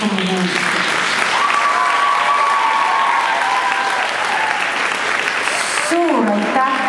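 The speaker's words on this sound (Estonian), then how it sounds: "Põhimõtteliselt võib plaksutada" Audience applause at the Estonian Dance Education Union's 2021 anniversary event, a loud, sustained wash of clapping from a full room, with a voice speaking over it near the start and again at the end.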